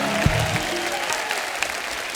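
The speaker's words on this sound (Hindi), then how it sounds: "दोस्तों, एक बार जोरदार तालियां हमारे मेहमानों के लिए हो जाएं।" An audience at a comedy show with Punjabi artists breaks into applause for the guests, a steady wash of clapping that fills the room under a brief voice at the start.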